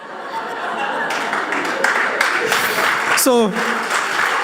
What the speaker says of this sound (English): I'm not sure whom we are clapping for here